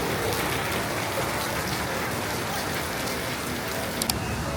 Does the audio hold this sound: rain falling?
yes